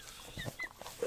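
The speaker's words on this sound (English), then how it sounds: "Will you stop barking?" A dog indoors gives a few short, close barks and whimpering yelps over roughly a second, fairly faint and with no talking.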